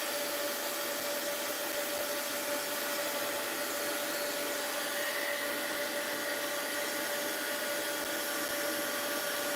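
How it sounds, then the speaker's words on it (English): A heat gun runs steadily, blowing over melting wax for craft work, a constant close airy roar with a faint high whine and no talking. "let's hit this with the heat gun"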